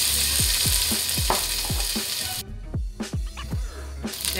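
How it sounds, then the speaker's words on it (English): Onion drops into hot cooking oil for pork sinigang, bursting into a loud, close sizzle with repeated quick stirring scrapes, then the hiss thins partway through while the spatula strokes continue. "First, we're going to add a little bit of cooking oil. And we add our onion."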